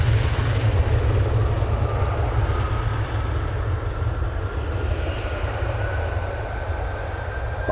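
A Logan Air propeller plane departing Manchester Airport for Aberdeen, its engines producing a steady, loud droning roar with a low throb, heard continuously and without speech.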